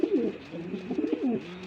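A pair of Maxi Racer racing pigeons of Belgian stock cooing close by, several soft throaty rolling coos in quick succession.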